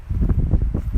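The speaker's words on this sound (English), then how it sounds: "I hope you can all hear me because it's very windy" Wind buffets the microphone in low, rumbling gusts, a steady muffled roar with no voices.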